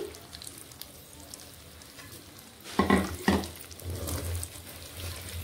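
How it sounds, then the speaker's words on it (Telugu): Chicken pieces fry with ginger garlic paste for gongura chicken pickle, a low steady sizzle broken midway by a couple of louder clatters as the meat is added and stirred, without speech. "మనం వేయించి పెట్టుకున్న చికెన్ ఇందులో వేసేసుకోవాలి."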